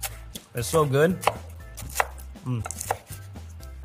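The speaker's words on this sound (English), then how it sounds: "I'm gonna start to chop up the bacon." A knife chops bacon on a cutting board in quick, close, steady strokes while someone talks over it.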